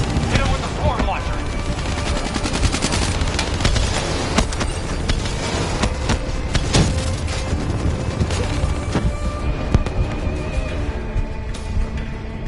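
Dense, continuous gunfire and explosions from Call of Duty Black Ops 3 during a heavy armored-enemy firefight, rapid shots and blasts packed tightly and loud throughout.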